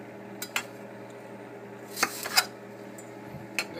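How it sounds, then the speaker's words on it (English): A chef's knife chopping apple on a cutting board gives a few sparse, light taps and clicks, close but quiet, over a faint steady background hum. "you want to chop this as finely as you can"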